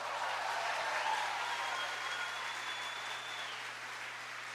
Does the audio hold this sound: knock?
no